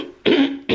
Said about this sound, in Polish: Student chrząknął.